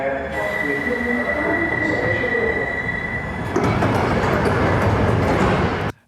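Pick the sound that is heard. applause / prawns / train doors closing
train doors closing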